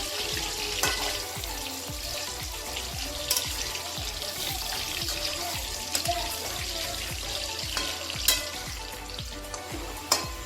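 Potatoes frying in a pan on a home stove after being turned, giving a constant hiss and crackle with frequent sharp pops and light scraping, close by with no voices.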